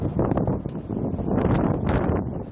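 Strong gusts up to 40-50 mph blow outdoors in Cincinnati during a severe weather outbreak, a loud, continuous buffeting roar of wind against the microphone, rising and falling slightly.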